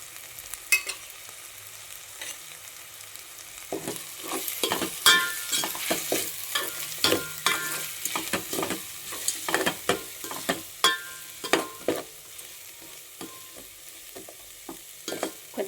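Tomato masala frying in a pan as turmeric, salt, chili and coriander powder go in, with repeated stirring scrapes and clinks over a steady sizzle, close and moderately loud, no talking.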